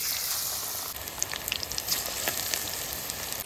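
Fritters (bora) frying in hot oil on a cold winter day, a constant soft sizzle dotted with small crackling pops, close and fairly quiet, with no talking.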